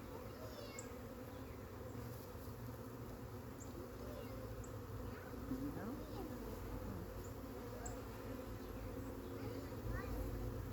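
A dense, steady drone of a wild honeybee swarm buzzing together while being installed into a new hive, close and continuous, with faint individual wingbeats flickering over the low hum.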